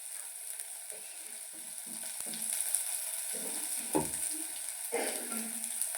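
Cluster beans stirred in hot oil in a pan, a faint steady sizzle with intermittent scraping and stirring clatters, one sharper knock near the middle, no voices.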